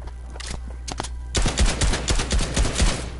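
Rapid AK rifle fire in a shooting video game: a few scattered shots at first, then a loud, dense automatic burst of close cracks lasting a couple of seconds.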